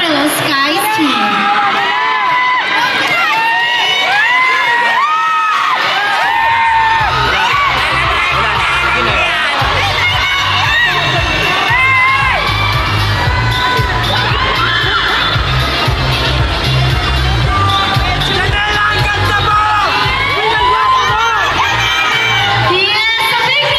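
Audience at a film event for Under Parallel Skies with Warner Bros. Pictures cheering and whooping loudly, a dense crowd roar with shouts over a steady beat of music, continuing for the whole stretch.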